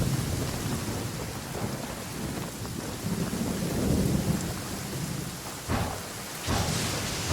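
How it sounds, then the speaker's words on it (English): Heavy downpour with thunder in the Genshin Impact game world: a constant roar of rain on surfaces, with deep rolling rumbles swelling through and brighter cracks near the end, no voices. "Taking a stroll in the middle of a downpour certainly rouses the spirit"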